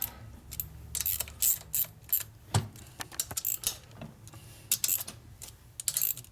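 A torque wrench pulling down small bolts on a rebuilt 1992 Harley-Davidson FXR Evolution 88ci engine: quiet, close metallic clicks and ratcheting taps in irregular bursts, with no voices.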